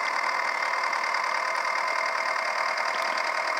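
A tractor engine idles in the Farming Simulator video game, giving a steady, dense mechanical drone with a faint knocking texture that holds unchanged for the whole stretch, with no voice over it.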